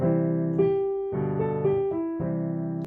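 Piano chords for a choir warm-up, alternating the tonic and dominant harmonies in sustained blocks, each chord struck and held about half a second to a second, close and clear with no voices.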